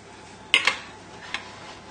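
Twice-baked mushroom soufflé set onto the side of a plate, giving two quick close clinks of ceramic and utensil followed by one softer tap against a quiet kitchen background.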